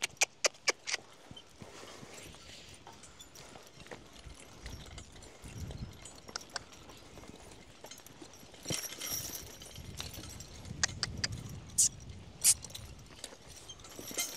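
Crossbred draft horses are hooked up, harnessed and driven over the wagon tongue. Hooves clop on hard ground, bursts of sharp clatter and knocks come close by, and a dog can be heard at times under the shuffling movement.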